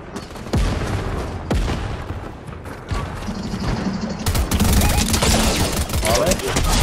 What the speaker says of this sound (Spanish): Sí, me están disparando a mí.